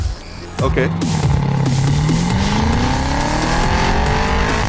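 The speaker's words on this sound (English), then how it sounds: "Oh man, that V8 sound." A powerful V8 car engine kicks in and revs, its pitch climbing steadily as the car accelerates, loud and close with a rough rumbling tone.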